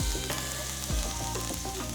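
Beef searing in a hot pan with sprigs of thyme, a steady, loud, dense sizzle and crackle that runs throughout, with low stirring thumps underneath.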